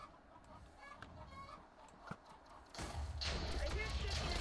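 Chickens in the Minecraft game squawk and cluck briefly beneath ongoing talk, and a louder, busier burst of game noise takes over in the final seconds.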